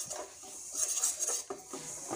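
Ajwain, fennel and sesame seeds are dry roasted in a pan on low flame, giving soft scraping and stirring sounds with light rattling of seeds against metal, close and quiet.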